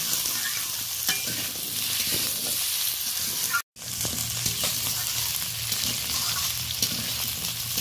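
Potatoes frying in oil with chillies and five-spice tempering give a steady, close crackling sizzle broken by scraping stirs, with a brief gap near the middle and no talking.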